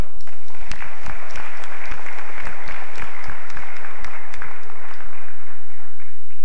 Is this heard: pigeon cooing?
no